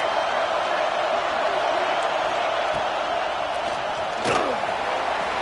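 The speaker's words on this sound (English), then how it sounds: "Listen to this crowd just shaking the girders of this place, trying to help their defense." A stadium crowd at a football game roars loudly and continuously, a dense distant wall of noise, with one sharp bang near the end.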